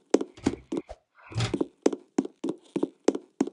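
Loud footsteps of a character walking in a Roblox hospital tycoon game, a steady run of about a dozen sharp, close thumping steps with a brief noisy scrape partway through.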